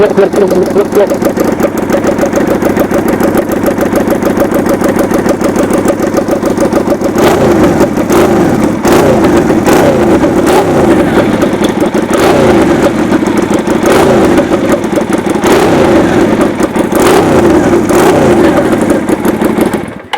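A custom 250cc V-twin motorcycle engine revs loudly and continuously, with sharp throttle blips and rising, falling roars through the second half.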